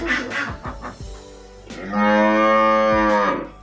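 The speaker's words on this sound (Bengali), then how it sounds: "ওই তো গরু ডাকতেছে" A cow moos near a home during a household worship of Mahadev. A few short soft knocks and rustles come first, then one long, loud, droning moo holds for over a second before fading.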